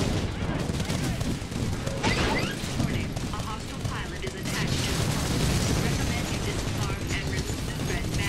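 Dense, continuous gunfire and explosions from the Titanfall beta played on Xbox One, loud rapid bursts layered with booms and mechanical clatter, with no pause through the whole stretch.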